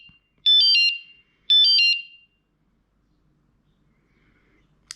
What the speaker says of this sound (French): Il va biper autant de fois que de niveaux.